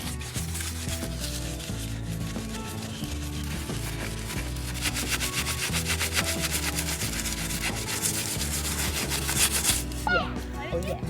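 Scrubbing surface rust off the painted body of a bus, a continuous close rubbing and scraping with light pressure, steady throughout over background noise.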